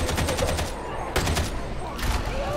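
Rapid gunfire from the video game Warhammer 40K: Darktide, loud bursts of automatic shots in quick succession with short gaps between them, close and punchy.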